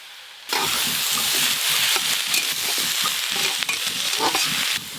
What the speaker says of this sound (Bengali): চাপা খুলে আরেকবার নেড়ে নেব।